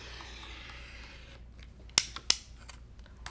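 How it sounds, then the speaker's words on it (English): Two crisp scissor snips cutting apart quilt fabric units along a drawn center line for a Flying Geese block, close and sharp against a faint quiet background. "you can just cut right on the drawn line in the center"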